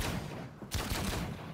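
Sharp gunshot bursts from a pistol in the Outcast 2 demo, a cluster of loud cracks after a short pause, set against steady game background noise.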